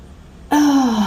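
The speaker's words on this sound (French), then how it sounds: "il bâilla" A single voiced yawn rises abruptly and holds as a drawn-out, falling breathy tone, close and loud, following a quiet pause.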